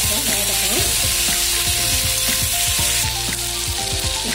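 Ingredients for aloo paneer gravy fry loudly in a pan, a dense close sizzle with stirring clatter and scraping throughout, steady with a slight drop in intensity near the end and no talk.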